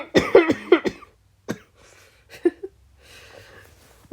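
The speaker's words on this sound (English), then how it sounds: "I'm still having a lingering cold, so lingering cough" A person with a lingering cold coughs several times in a quick cluster, then gives a few more isolated coughs and a throat clear, close and dry, with quiet pauses between.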